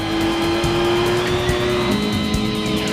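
A race car skids through a corner on a track, its tires squealing in a long, steady high whine over the loud hum of the engine, close and continuous with no talking.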